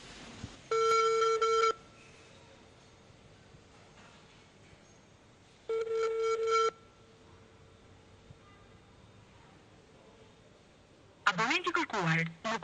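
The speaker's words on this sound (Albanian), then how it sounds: "Do të mundohemi të marrim telefon zotin Alim Ahmeti." A telephone call being placed: bursts of ringback tone come through twice, separated by quiet line hiss, followed by a recorded voice message.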